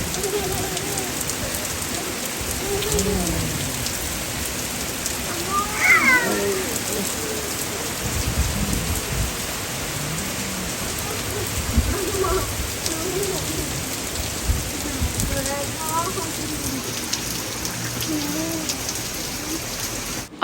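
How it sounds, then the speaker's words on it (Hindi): Steady heavy stormy rain pattering on surfaces throughout, with faint meow-like cries and a few distant voices under the downpour. "ऐसे तेज़ और तूफ़ानी वाली जो बारिश है"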